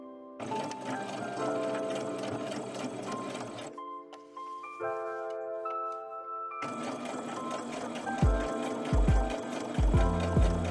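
A Singer sewing machine stitches a straight seam around a skirt waistband, whirring in a loud, steady run, pausing briefly to a softer hum, then resuming with a few low knocks near the end.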